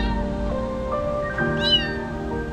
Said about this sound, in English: This poor baby kitten was meowing near the tree.